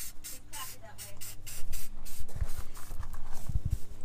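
Repeated short hisses of a rattle can spraying pistachio green paint onto a car's roll cage, close and sharp, broken by clunks and handling noises while people talk nearby.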